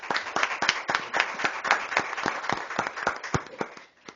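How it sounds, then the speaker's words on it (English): Applause at a city council meeting in Baker City: a small group clapping for about four seconds, individual sharp claps distinct and uneven, fairly close, with no talk over it. "So let's give him another big round of applause."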